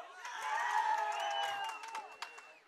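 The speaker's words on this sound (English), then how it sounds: "Ashland crowd trying to get the team into it here" Home fans of Ashland cheer from the stands at a night boys' varsity high school soccer game against Norwood, a distant swelling crowd roar with whoops and scattered claps, fading slightly toward the end.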